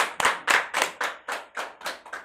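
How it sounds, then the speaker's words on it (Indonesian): A small audience in a comedy show studio claps in steady, evenly spaced bursts of about nine close-up claps, loud and with no talking over them. "Tepuk tangan"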